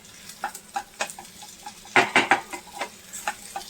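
Stuffed capsicums frying in a pan being turned over, with rapid clinks and scrapes of a spatula against the pan and a short louder burst of scraping in the middle over a light sizzle, close by.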